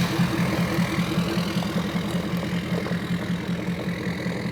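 A lifted Ford Raptor pickup truck idles steadily nearby, its even, throbbing engine note holding constant with a loping pulse and no other sounds over it.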